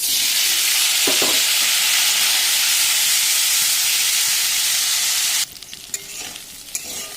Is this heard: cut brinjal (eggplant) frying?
yes